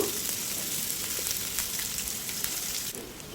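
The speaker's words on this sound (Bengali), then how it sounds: "পেঁয়াজটাকে একেবারে লালচে করে ভেজে নেবো" Chopped onions fry in hot mustard oil in a pan for a lentil dal with papaya, giving a steady close sizzle and crackle with scattered small pops and no speech.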